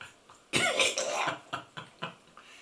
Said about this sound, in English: That was not a smoker's cough.